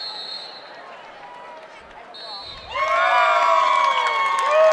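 A crowd at a high school wrestling tournament bursts into loud cheering and shouting about midway, with sharp squeaks and whistles, after a quieter stretch of arena murmur.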